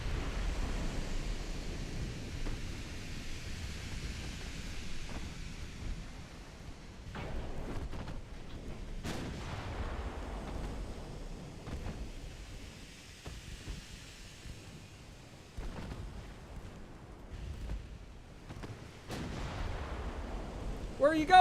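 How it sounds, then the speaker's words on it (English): Distant battleship gunfire in a naval video game, with several heavy booms spaced seconds apart over a continuous sea-like noise bed that rolls and fades between shots. "Now the battleship's shooting at them for reasons."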